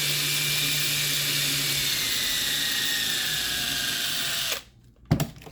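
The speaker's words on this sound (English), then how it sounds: "you got to be very careful with the drill not to put it all the way through inside" A power drill bores into the broken plastic body of a DeWalt impact driver, a loud continuous whine that sags in pitch under load, then stops abruptly and is followed by a short burst and a clunk.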